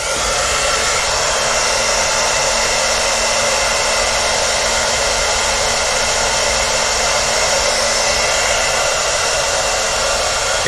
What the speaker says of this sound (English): Got the old hair dryer out quick